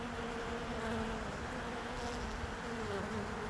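Bees buzz continuously at a small hive entrance, a dense steady hum of many insects close by, faint and unbroken throughout with no talking.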